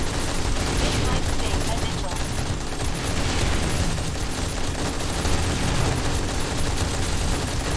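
Sustained, dense video-game gunfire from 7 Days to Die with the Darkness Falls mod, loud continuous automatic shooting with booming impacts filling the whole stretch, a voice talking over it.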